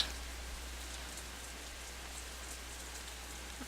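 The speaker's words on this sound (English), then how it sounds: "it's raining" Rain from the Katawa Shoujo visual novel falls as a steady, quiet patter on a surface, with faint scattered droplet ticks over a low constant hum.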